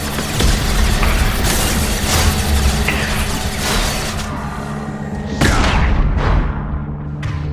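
High impact shot fired in Mass Effect 2, heavy booming blasts layered with mechanical clanks and ratcheting, a dense loud barrage followed by a few sharp separate shots near the end.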